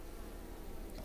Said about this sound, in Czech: No teď už to není vidět, protože jsou tam včely.